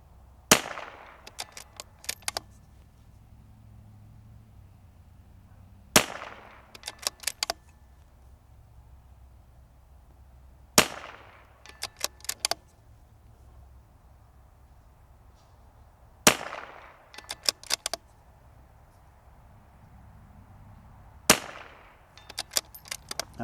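Rifle shots at targets 150 yards away in a comparison of a CZ 457, a Vudoo 360 and a Snapdragon: five sharp, fairly quiet reports spaced several seconds apart, each followed by a few light metallic clicks of bolt handling.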